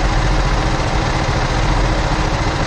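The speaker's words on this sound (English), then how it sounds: "You're barely running the tractor." A tractor engine idling at low RPM while cutting hay, a loud, steady, close drone with even vibration and no voices.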